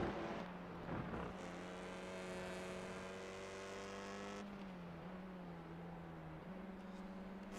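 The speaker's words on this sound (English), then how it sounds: "Of course, these cars sound absolutely amazing, and you can throw them around." TCR touring race cars in a racing video game, a steady loud engine drone holding a high pitch, then a gear change dips the tone before it climbs again, with no voices over it.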